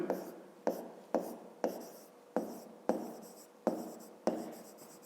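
Pen strokes scratch across paper in a steady rhythm, about eight short bursts each trailing off, close and fairly quiet with no talking.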